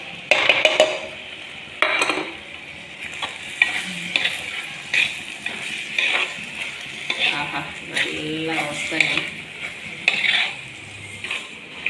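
Bilimbi roast with coconut is stirred in a pan, a spoon scraping and clinking against the metal in repeated strokes over a steady sizzle of frying, close and fairly loud throughout.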